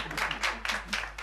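Brief, faint clapping from a small group in a comedy-show scene, a few quick rhythmic bursts of applause with no one speaking.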